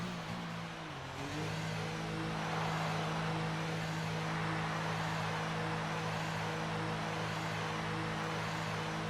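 A race car in an XRL all-star race pulls into the pits for fresh tyres, its engine holding a steady loud drone after a brief dip, with continuous mechanical noise and no talk.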